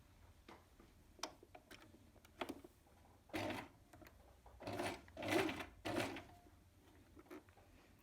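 A sewing machine stitches a cape hem in short bursts, close whirring runs separated by pauses with light ticks and clicks of handling.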